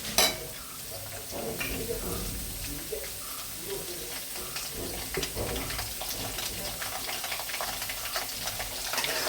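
Coconut pieces fry in a pan for a clam meat dish while being stirred, with a continuous close sizzle and soft scraping stirs throughout.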